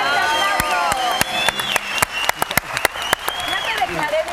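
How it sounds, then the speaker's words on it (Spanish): A studio audience on a Mexican morning show in San Luis applauds and cheers for a guest, with dense clapping throughout, sharp claps and whoops on top, and people talking over the crowd. "¡Un fuerte aplauso!"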